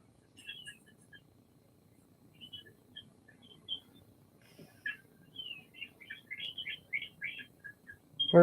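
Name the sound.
birds chirping outdoors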